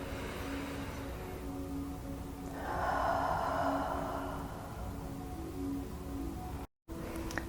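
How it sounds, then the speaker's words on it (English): A single deep, slow breath during a guided meditation, a soft airy rush lasting a couple of seconds, close to the microphone over a low steady background hum, with no talking. "So take another nice deep breath into this space."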